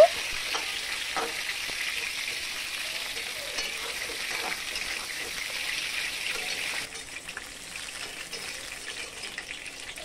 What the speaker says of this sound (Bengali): বাকি তেলটাই আমি পটলগুলো দিয়ে দিলাম। পটলটা আমি ভালো করে ভেজে নেব।